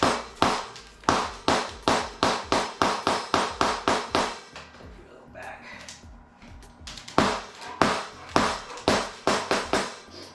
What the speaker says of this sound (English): Rubber mallets.